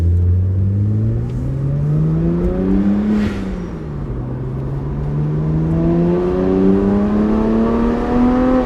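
A modified BMW 1M engine hums and drones from inside the cabin, its pitch rising and falling smoothly as it accelerates and eases off, steady and moderately loud.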